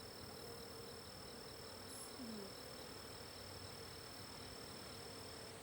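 Honeybees buzzing around an open beehive during an inspection, a faint, even, continuous hum of many insects with a steady high whine over it and no voices.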